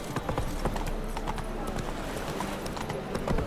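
Roach the horse gallops in The Witcher 3 with a fast, steady clip-clop of hooves, close and continuous, over a faint background of game ambience.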